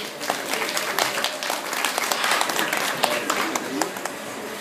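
Crowd applause at a parrot show at Hamat Gader in Israel, steady many-handed clapping from an audience at moderate distance, continuous throughout with a few sharper claps standing out.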